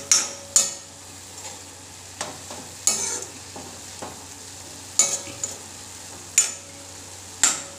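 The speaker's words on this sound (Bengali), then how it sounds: "নারিকেলটারে বালা করে গুড় দিয়ে আমি বাজি করি" Grated coconut cooked with jaggery, stirred in a pan for a palm-fruit pitha filling. The spoon scrapes and knocks in sharp, irregular strokes over a soft, steady frying hiss, close by with no talking.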